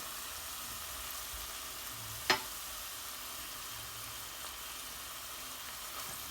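Onions sizzle in oil and butter in a pan, a low, steady hiss with one sharp clink from a utensil partway through.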